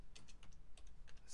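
Quick keystrokes on a computer keyboard, entering text into a text box in Visual Basic, form a rapid, irregular run of light clicks lasting about a second, fairly faint and with no talk.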